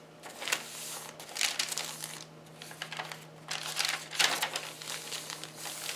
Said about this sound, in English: Paper bag.